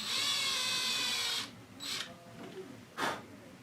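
A power drill with a brad point bit bores a shallow hole in mahogany, whirring steadily for over a second, then giving a few shorter, quieter bursts, close by and alone.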